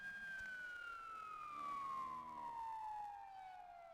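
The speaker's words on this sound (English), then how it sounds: "the ugly peaking on that police siren sound effect" A police siren sound effect in the game Vampire The Masquerade: Bloodlines, a single steady wail that slowly drops in pitch, fairly loud and heard alone with no talking.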